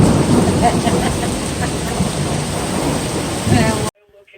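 Steady heavy rain pours down at a campsite in Hyner View State Park, with deep rolling thunder rumbling throughout, loud and close, then cuts off abruptly near the end.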